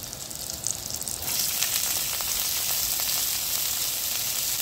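Bitter gourd and potato pieces drop into a hot pan, and the sizzle of frying oil jumps to a loud, steady hiss, with a few faint stirring scrapes underneath, close up and with no talking.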